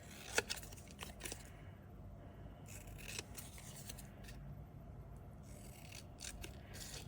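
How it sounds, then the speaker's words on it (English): Scissors trim a paper label, giving a few faint, crisp snips spread across a quiet stretch with low background hiss and no talking. "So I'm going to just trim this label down."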